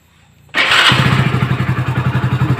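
A Hero Splendor BS6 motorcycle on its center stand starts abruptly after a quiet moment, then settles into a loud, close, rhythmic idle with steady putting pulses.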